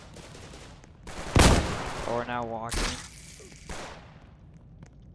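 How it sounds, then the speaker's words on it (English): Gunfire from a video game, several sharp loud bursts scattered across a few seconds, with a person talking over them and a clear tonal sweep in the middle. "sorry for all the gunshots, this game is kind of famous for that"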